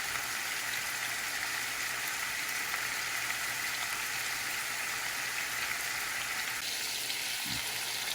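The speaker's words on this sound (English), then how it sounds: "So now I'm going to add it to the pot so I can cook it all the way through." Oxtail and rump roast cook in a pot with a steady, low sizzle and simmer, a constant quiet frying hiss that holds throughout with no talking.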